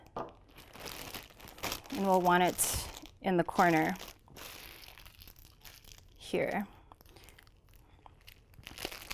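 A plastic Ziploc bag crinkles and rustles close by in short bursts while a person talks quietly between them.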